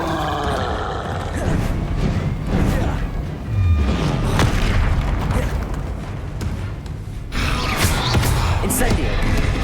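Fire-spell casting in the Hogwarts Legacy game, heard as a loud, dense barrage of roaring blasts, booming impacts and whooshing magical effects layered with game music, with a short lull before another burst; a voice calls out spells.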